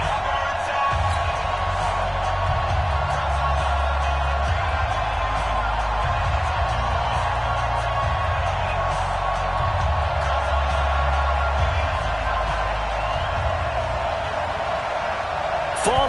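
Stadium crowd in a PS4 NFL football game at a Baltimore Ravens home game against the Cleveland Browns, a continuous loud roar and cheer filling the whole stretch, with a commentator speaking over it.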